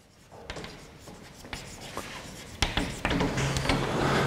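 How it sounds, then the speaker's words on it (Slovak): Chalk or marker strokes scratch across a board during a mathematics lecture, coming in a series of short, uneven taps and scrapes that grow denser and louder toward the end, with no talking. "Ja si tu niečo napíšem."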